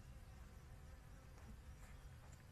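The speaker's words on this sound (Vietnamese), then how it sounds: "quý vị thấy không, nè ong nè." Bees and flies buzz around flowers gathering nectar after rain, a steady, faint droning hum with many insects overlapping, heard alone without talk.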